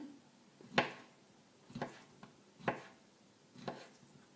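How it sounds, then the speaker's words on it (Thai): A knife chops through food on a board in four sharp, evenly spaced strokes, fairly quiet and close, with nothing else heard. "แบบนี้เราก็จะหั่นแบบนี้นะคะหั่นเป็น ชิ้นแบบนี้"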